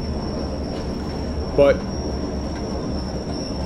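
A BR Class 40 diesel hauling heavy freight in Train Sim World rumbles steadily throughout, with a brief sharp wheel squeal midway and a single word spoken over it.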